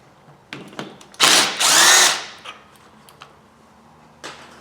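Power driver backing Torx screws out of a scrap motor: a few short, sharp whirring bursts close by, the longest lasting under a second, followed by faint clicks and handling noises.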